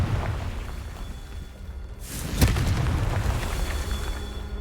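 A Confringo spell explosion from a Harry Potter video game bursts once near the middle, a sharp boom with a crackling tail over steady game ambience.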